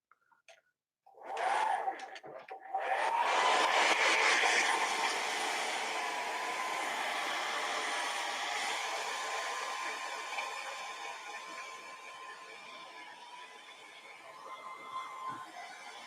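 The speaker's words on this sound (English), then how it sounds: "I'm going to use the hair dryer on low." A hair dryer set on low drying alcohol ink starts up after about a second of quiet and blows as a steady, fairly close whoosh that slowly eases off over the clip, with no talking.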